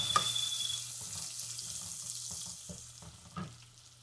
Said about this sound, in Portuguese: Eu lavei, eu tô lavando aqui duas xícaras de arroz